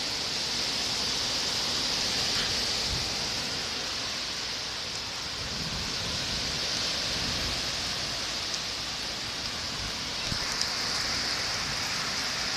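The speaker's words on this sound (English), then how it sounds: "Yeah, here comes the rain." Steady rain pouring down during a strong July thunderstorm, a dense continuous hiss with scattered heavier drops and faint low rumbles throughout.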